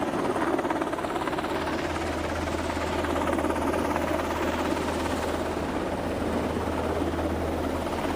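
A helicopter flies overhead at a hospital, its rotor chop and engine roar forming a loud, steady drone throughout, with no talking.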